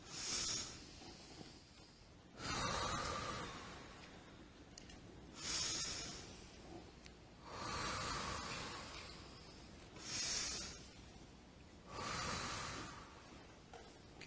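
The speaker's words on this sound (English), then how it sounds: "Let's start by receiving 3 breaths together" Three slow, deep breaths are taken, each a quiet inhale and exhale swelling and fading in an even rhythm, faint and close, with no talking.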